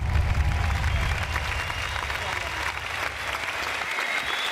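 Audience applause at a live dance show, steady dense clapping from a crowd at moderate distance, sustained evenly throughout with some voices mixed in.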